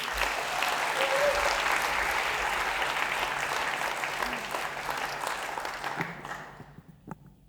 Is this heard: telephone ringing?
no